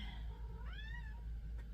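A pet kitty cat wanting attention gives a single rising-then-falling meow indoors in a quilting room, fairly quiet over a constant low hum of background noise.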